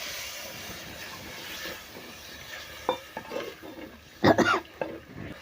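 Water poured into a simmering fish curry masala with mango pieces, giving a faint sizzle and soft stirring, with a few sharper scrapes and clinks near the end.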